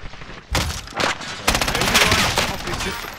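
Bursts of game gunfire strike the player's aircraft in a flight combat video game, several loud broadband volleys arriving in quick succession with a steady rattling texture between them and no talk over it.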